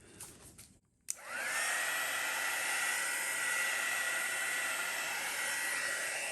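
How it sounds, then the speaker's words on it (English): After a brief pause and a click, a heat embossing tool switches on and blows hot air with a steady, loud whooshing hiss that runs to the end. "I'm just going to burst any bubbles, just using one of these heat embossing tools"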